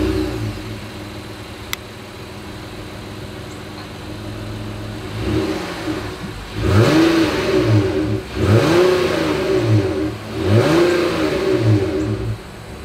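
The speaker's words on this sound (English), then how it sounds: "As always, here is that exhaust clip." A 2022 Honda Odyssey minivan's engine and exhaust idle steadily, then rev in three strong rising and falling bursts, close and loud, with no talking.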